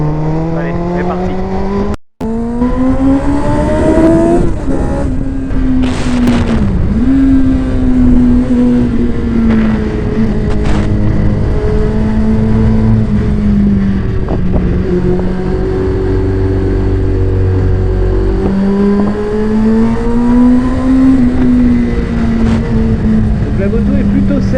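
A 1998 Kawasaki ZX6R sport motorcycle rides through corners, its engine droning loud and close with pitch rising and falling through gear changes and throttle shifts over about 25 seconds, with wind rush.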